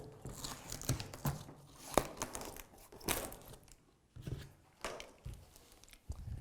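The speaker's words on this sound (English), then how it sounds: "Now take a knife and carefully cut the tape all the way around, being careful not to cut your finger." A knife slices through packing tape on a Glion B1 eBike cardboard box, giving faint, intermittent crinkling and tearing scrapes with small knocks, close by and quiet.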